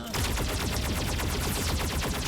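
Enemy cannon fire in a video game, heard as a continuous rapid-fire stream of evenly spaced shots, loud and close, with no pauses.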